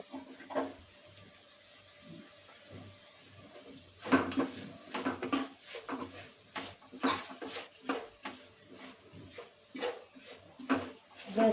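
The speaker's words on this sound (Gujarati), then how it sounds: "થોડી વાર આપણે આ મિશ્રણને હલાવીશું જેથી કે તળિયે ચોંટી ન જાય" A garlic and chili raita mixture is stirred in a pan with the gas turned off, giving soft scraping and clinking of a utensil against the pan in irregular bursts, faint at first and busier later.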